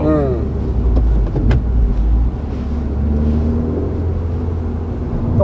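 Steady low engine and exhaust drone from a Suzuki Swift Sport turbo fitted with a Rosso Modello aftermarket muffler, fairly quiet and continuous from inside the car, with people talking over it.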